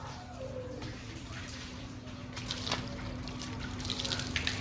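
Water runs and splashes faintly while a house and its door are washed down, a steady low wash of liquid with occasional trickles and drips, somewhat distant and without talk.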